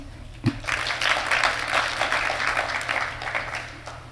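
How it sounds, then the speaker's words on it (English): A crowd claps steadily for a few seconds, a dense wash of hands heard from a distance in a large room. "give yourselves a round of applause"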